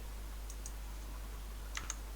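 Computer mouse clicks while pressing an OK button in a document editor, a few sharp, quiet clicks in two small pairs over faint background hum.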